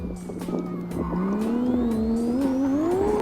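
A racing car engine in the video game Live for Speed revs upward in pitch, roaring continuously with a whining rise, plus a brief skid-like squeal.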